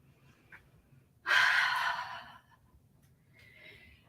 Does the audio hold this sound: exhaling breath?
yes